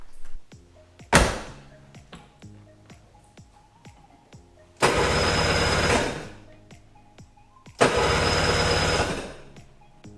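A Sea-Doo GTX jet ski engine, under rebuild, gives two loud cranking bursts of about a second each a few seconds apart, with scattered clicks and clunks between them.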